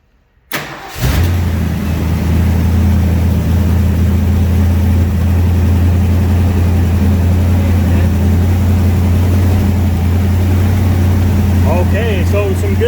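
A 1965 Ford Mustang Fastback engine cranks and catches, then settles into a loud, steady idle that runs on continuously with faint voices in the background.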